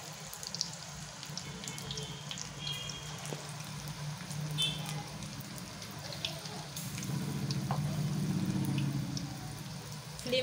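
Kanda bhaji, onion fritters, fry in hot oil over a medium flame. There is a soft, continuous sizzle and bubbling with scattered small crackles, quiet and steady, swelling slightly toward the end, with no talking.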